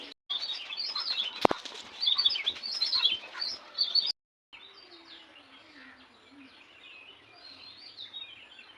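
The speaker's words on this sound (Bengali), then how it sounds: "জল খাচ্ছে দেখো পাখিতে এগুলোকে গাংশালিক বলে মনে হয়" Bank mynas drink water while calling in busy overlapping chirps, with a burst of wing flaps near the start. After a brief gap the calls go on more softly.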